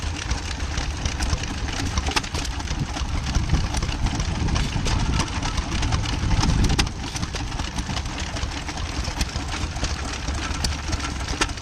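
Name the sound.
stationary engines (diesel, petrol, paraffin) running at steam rally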